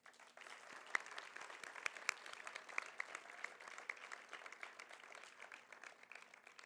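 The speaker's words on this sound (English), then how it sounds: "Please give yourselves all one more round of applause." Guests at a charity ball for a GI research foundation applaud, soft and fairly distant, a steady patter of clapping with a few sharper claps and occasional whoops.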